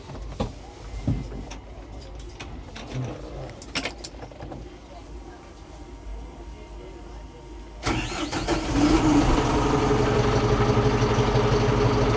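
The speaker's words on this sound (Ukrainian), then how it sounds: "А ви зможете запустити нам даний трактор?" A 110-horsepower Chinese tractor engine is cranked and catches about two-thirds of the way in, settling into a loud, steady idle after some quieter clicks and rustling.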